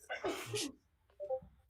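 A single short sneeze from a person, followed by brief faint vocal sounds, fairly close and quiet.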